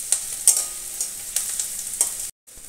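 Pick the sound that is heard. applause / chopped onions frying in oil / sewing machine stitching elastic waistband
chopped onions frying in oil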